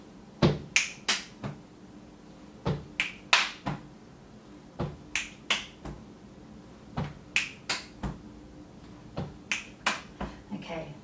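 Body percussion of foot stamps, a clap and both hands striking the chest, repeated in short rhythmic groups of sharp slaps and thumps, close and crisp, with brief pauses between bars.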